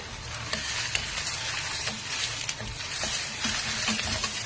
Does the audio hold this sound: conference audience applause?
no